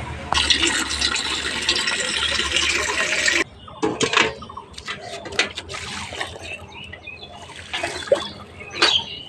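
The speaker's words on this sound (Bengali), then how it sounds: "আপনারা দেখতে থাকুন, আমি গাছগুলোতে জল দিয়ে দিই।" Plants being watered outdoors in the morning: a steady broadband rush of pouring water for several seconds, then stops, followed by scattered splashes and trickles with faint birds in the background.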